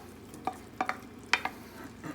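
Vegetables go into a hot pan for a Korean beef stir fry, giving a low sizzle broken by several sharp clinks and scrapes of stirring, close and without talk.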